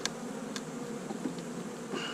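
Honeybees drone inside an opened winter beehive in South Carolina, a steady close buzzing with a few brief rises and clicks, no voices.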